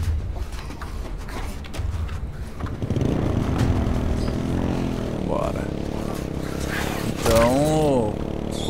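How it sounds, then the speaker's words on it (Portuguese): A small motorcycle in the H1Z1 battle royale game starts up and runs with a rising, revving engine note that grows louder midway, while someone talks over it. "vamos pegar essa motinha aqui"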